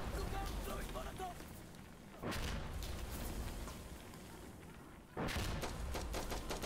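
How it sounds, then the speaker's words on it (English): Heavy explosions from a called-in strike in the shooter game Insurgency Sandstorm: two sharp, loud blasts a few seconds apart, each followed by a rumbling decay, over continuous battle noise. "I believe someone might have called in a strike of some description, which has caused all the explosions to be happening"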